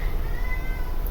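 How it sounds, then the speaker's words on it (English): A house cat meows in a drawn-out, rising and falling call, close and fairly loud over a low steady background hum. "My cat."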